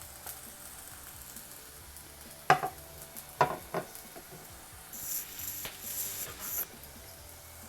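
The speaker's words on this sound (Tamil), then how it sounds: "இப்போ இதையும் வந்து நம்ம நல்லா வதக்கிடலாம்." Ginger garlic paste and onions sauté in a pan for village-style mutton thokku, with a soft sizzle and several scraping stir strokes of a spatula, fairly quiet and close.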